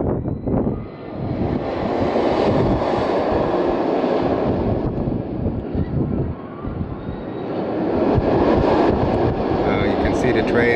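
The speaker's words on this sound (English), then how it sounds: "The train's actually moving forward now into the station on its own" A low, continuous mechanical rumble and rattling roll slowly along, with wheels grinding and clattering as the Wonder Woman roller coaster train at Six Flags Magic Mountain creeps steadily into the station during testing.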